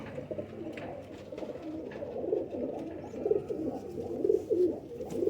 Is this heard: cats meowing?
no